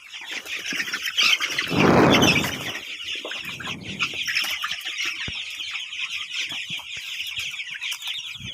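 Chickens squawk and cluck close by on a poultry farm, with a loud flurry of flapping wings early on, then scattered calls continuing.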